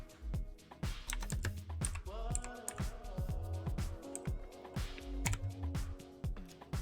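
Keys clatter on a computer keyboard as a search is typed, a quick irregular run of close, crisp taps with short pauses between bursts.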